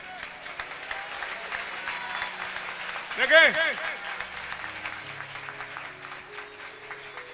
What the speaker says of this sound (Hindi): ये तालियां पता क्यों मार रहे हैं?